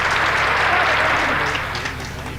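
An audience at a Ghalib Jayanti celebration applauds in a dense, continuous wash of clapping that tapers slightly toward the end.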